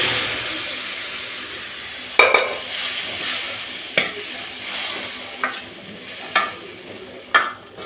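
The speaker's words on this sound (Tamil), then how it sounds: "மீடியம் ஃப்ளேமில் வச்சுட்டு இப்போ சுண்டல் போட்டுடலாம்." Black chickpeas tossed in a pan on a medium flame hiss and sizzle steadily, with a spoon scraping and clacking against the pan at irregular intervals.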